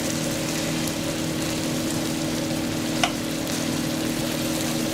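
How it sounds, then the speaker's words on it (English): Steady, close sizzling and frying of meat in a hot pan, a constant crackling hiss with one small pop partway through. "while it's cooking, just so it has that nice sizzle to it"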